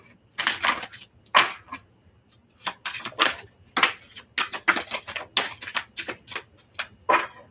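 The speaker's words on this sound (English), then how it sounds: "last shuffle" A deck of cards is shuffled up close during a card reading, heard as a run of crisp, clattering riffle bursts separated by short pauses, with no voices.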